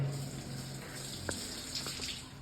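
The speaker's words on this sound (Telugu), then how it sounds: "ఇప్పితే సాల్ట్ వాటర్ హెవీగా ఉన్నదంతా మనకి బయటకు వచ్చేస్తుంది" Salty water drains out of a mini water softener, a faint steady trickle and hiss of running water with a couple of small knocks, no talking.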